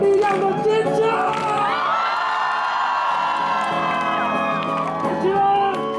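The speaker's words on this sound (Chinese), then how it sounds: "有最有力量的尖叫" An outdoor concert crowd on a university dormitory lawn cheers and screams loudly and continuously, with high whoops and shouts rising over the sustained roar of voices.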